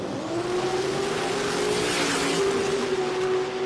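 Drag-racing cars, a Holden against a Supra, roaring at full throttle in a steady, loud engine blast with crowd and track noise around it.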